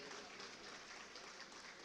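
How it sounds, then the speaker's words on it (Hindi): Applause from the audience for the award winners at an official language ceremony and prize distribution, a steady, faint wash of clapping heard from a distance without any break. "एक बार जोरदार तालियां हमारे सभी पुरस्कार विजेताओं के लिए"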